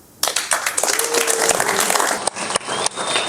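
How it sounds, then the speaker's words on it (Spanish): Loud, continuous applause from an audience at a school parents' evening exhibition, starting abruptly and sustaining dense clapping throughout with a few brief dips. "Fuerte las palmas para el compañero Jesús Pantoja Alfaro"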